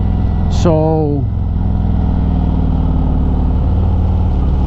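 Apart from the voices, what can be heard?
Harley Road Glide Special motorcycle riding through mountains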